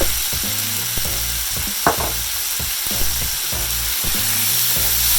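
Onions and garlic sauteing for chili, a loud, steady close-up sizzle with a persistent hiss and irregular clicking underneath, no voices.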